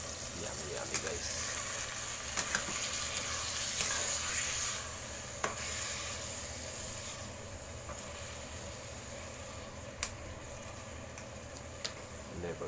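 Chicken liver frying with potatoes in a pan, a steady quiet sizzle with occasional sharp clicks of a utensil against the pan and a little stirring, close by and with faint talk.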